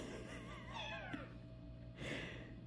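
A house cat gives a few soft, drawn-out meows, faint and fairly close, over a low background hum with no talking.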